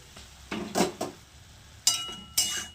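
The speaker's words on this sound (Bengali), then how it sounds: "পাঁচ মিনিট পর আমি ঢাকনাটা খুলে দিচ্ছি" A metal lid lifted off a cooking pan of pumpkin leaves on a low gas flame, several sharp close clinks and scrapes of metal on metal separated by brief quiet gaps.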